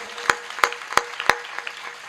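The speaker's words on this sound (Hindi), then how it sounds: "एक बार अपनी अपनी मां के लिए ताली बजा के मुझे आदेशित कर दें" Audience at a Hindi kavi sammelan comedy poetry event clapping: a few sharp, evenly spaced claps ring out in a steady rhythm, fading into softer scattered claps.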